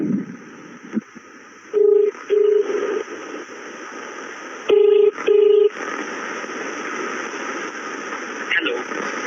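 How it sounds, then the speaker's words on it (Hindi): An outgoing phone call rings through a handset: two pairs of steady electronic ringback tones, each pair a short double burst, repeating after a pause over a constant background hum, with faint voices in between. "कॉल उठाना, ठीक है?"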